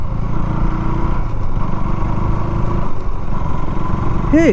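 A KTM Duke 200 third-generation motorcycle is ridden in gear on the road. A loud, steady engine drone with rushing wind noise runs throughout, and a brief rising tonal sound appears at the very end.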